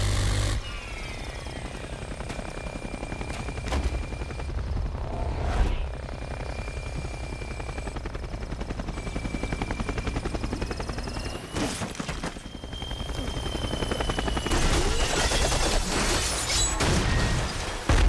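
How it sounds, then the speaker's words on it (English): An Ultor attack helicopter in Saints Row 2 flies toward an office building, its loud rotor and engine drone running continuously with bursts of gunfire and impacts mixed in, no talk. "The boss grabs an Ultor attack helicopter parked nearby and flies up towards Dane Vogel's office"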